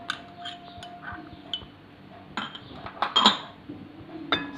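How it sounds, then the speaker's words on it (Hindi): Salad ingredients such as tomatoes, red beans, black chickpeas, onion, white chickpeas, cucumber and coriander clatter and clink into a bowl, with scattered close taps and a few brighter knocks as they are tipped in and stirred. "चलें बोल में अब सारी चीज़ें डाल लेते हैं, मिक्स कर लेते हैं।"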